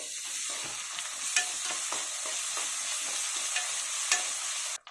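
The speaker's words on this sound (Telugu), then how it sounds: "ఇప్పుడు ఒక 2 స్పూన్లు అల్లం వెల్లుల్లిపాయ పేస్ట్ వేద్దాము. ఈ పచ్చివాసన పోయే వరకు వేపేసుకోవాలి." Ginger garlic paste fries in a pan for gongura chicken, giving a close, even sizzle with a few faint spoon scrapes. It stops abruptly at the end, and there is no speech.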